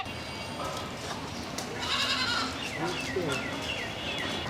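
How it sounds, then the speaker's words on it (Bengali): Several goats bleat in short wavering cries, some overlapping, at moderate distance amid busy outdoor background noise, with people talking in the background. "আজকে আমরা যে ছাগলগুলি সংগ্রহ করেছি দেখতে পাচ্ছেন জোড়া জোড়া করে"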